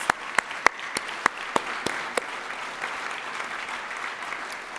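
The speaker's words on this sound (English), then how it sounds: "let's give a round of applause to all our committee members" Sparse clapping from a small group at an awards ceremony, a handful of sharp claps at first that thin out and fade into quiet room noise.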